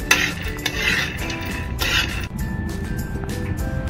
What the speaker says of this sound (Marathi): आपण आता फुटाणे भाजूयात।